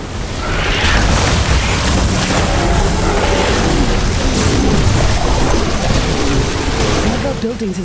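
Heavy explosions and rumbling booms from a building being destroyed during a base attack in The Riftbreaker, a sci-fi base-defense game, fill a continuous loud wall of battle noise with voice announcements over it.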